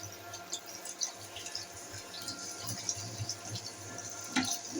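Gravy liquid being poured into a pan of fried potato curry, close watery splashing and trickling with small drips, fairly soft and continuous with a brief louder splash near the end.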